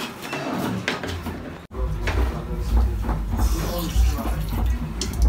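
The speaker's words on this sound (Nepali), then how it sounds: "सो पानी हामी हाल्दैछौ यहाँबाट अनि पानी हालेर चाहिँ पानी सँग मिसाएर यहाँ आटा कटल्ला हामी बनाउँदै छ" Water poured from a vessel into flour for Darjeeling momo dough makes a continuous close splashing and trickling, with a brief clunk partway through and then a steady watery rush.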